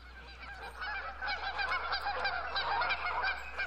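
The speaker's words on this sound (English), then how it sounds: "And the geese like to migrate very loudly." A flock of migrating geese honks loudly and continuously in the video game Tropico, overlapping calls in a busy rhythmic chorus that swells toward the end.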